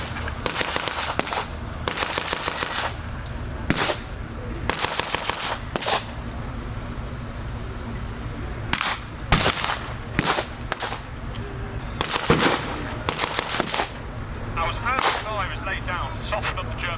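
Blank gunfire and explosions ring out during a WWII battle re-enactment with tank guns and Hellcat armoured vehicles at a steam rally, arriving as repeated bursts of sharp, rapid cracks and booms spread through the whole stretch, with talk faintly underneath.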